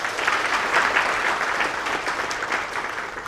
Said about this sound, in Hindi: हमको फिर एक बारी तालियां बजा के मंत्री जी का धन्यवाद करें